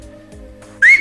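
A short, sharp rising whistle cuts in loudly at the end after a quiet, low hum.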